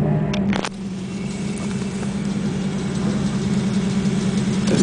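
A 1998 Ford Mustang SVT Cobra with a 32-valve 4.6 V8, BBK headers and Roush side exhaust idles with a steady, deep, throbbing rumble, close by and continuous after a brief clatter at the start.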